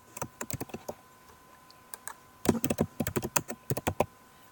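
Quick bursts of typing on a computer keyboard, clustered keystrokes clicking in short runs with brief pauses between, close and clear with no talking.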